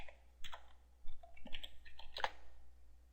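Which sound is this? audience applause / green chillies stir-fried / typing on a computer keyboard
typing on a computer keyboard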